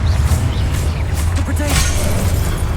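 Confringo blasting spell from Hogwarts Legacy, loud booming bursts and crackling impacts over a constant low rumble of game sound, with someone's voice heard alongside.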